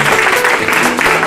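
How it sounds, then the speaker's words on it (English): A short burst of dense clapping from a crowd at a graduation ceremony, loud and continuous throughout. "Let's give them a big applause."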